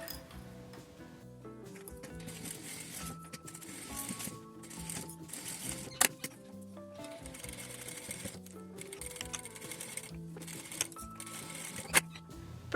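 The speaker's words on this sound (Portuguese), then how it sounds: "E agora é só passar uma costura aqui no topo para prender essas folhinhas" Sewing machine running a securing seam along the top edge of fabric pieces for a small strawberry pouch: rapid mechanical stitching in bursts with pauses, a few sharp clicks, close and fairly quiet.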